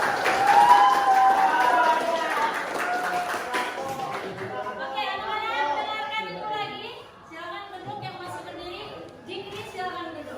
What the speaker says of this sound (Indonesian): Boleh kita tepuk tangan untuk kita semua